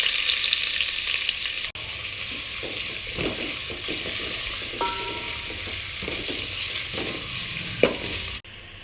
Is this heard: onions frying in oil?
yes